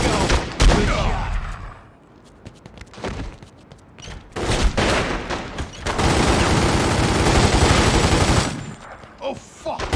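A shootout in a Godfather Part II film scene, with loud, close bursts of rapid gunfire and single cracks broken by short pauses, and a brief shout among the shots.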